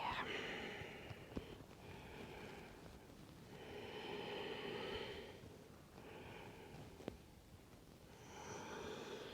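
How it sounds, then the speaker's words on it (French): Slow, steady breaths in and out during yoga hip circles, each breath a soft airy swell lasting a few seconds, close and fairly quiet, with no talking. "On inspire vers l'avant, on expire vers l'arrière."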